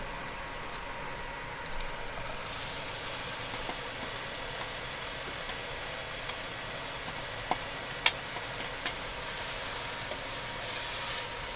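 Onions dropped into a hot pot just after beef searing for Texas chili in an RV kitchen, a steady hissing sizzle that swells early on, with a few faint ticks and clicks.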